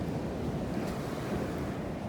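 Ocean waves wash onto a beach, a steady low roar of surf mixed with wind buffeting the microphone, continuous and fairly close, with no voices.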